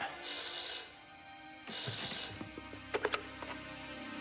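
Telephone ringing in the Blake & Mortimer adventure game: two bright electronic ring bursts in succession, followed by a few clicks and small clunks as the receiver is picked up.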